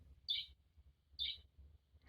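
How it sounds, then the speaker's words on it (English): A bird sound from a children's farm sound book plays two short bright chirps a second apart, faint over a low hum. "Next to them is the beautiful bird singing."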